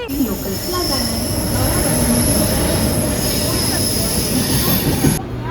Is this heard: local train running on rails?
yes